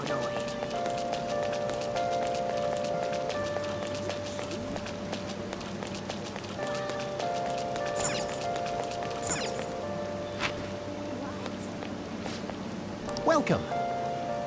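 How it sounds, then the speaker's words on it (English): Rain in the video game Persona 5 hisses steadily throughout, under soft game music tones, with a brief spoken greeting and a few sharper clicks. "Oh, this rain is so annoying."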